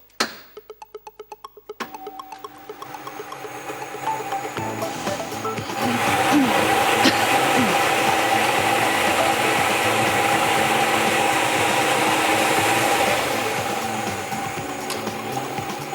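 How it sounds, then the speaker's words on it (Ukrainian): Large lottery ball drawing machine starting up after a few quick clicks, then a loud, steady whirring roar of tumbling balls that holds and eases off slightly toward the end. "вмикаємо великий лототрон"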